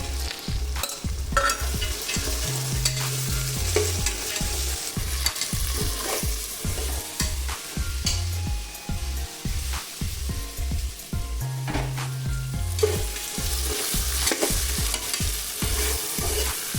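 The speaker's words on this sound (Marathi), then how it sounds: "जे आपले सोलेले हरभरे आहेत ओले हरभरे म्हणजे सोलाडा म्हणतात त्याला तर हे आपल्याला तेलात चांगले भाजून घ्यायचे" Fresh green chickpeas, shelled, roasting in hot oil for a Maharashtrian green chickpea rice dish, giving a steady close sizzle with repeated scraping stirs throughout, no talk.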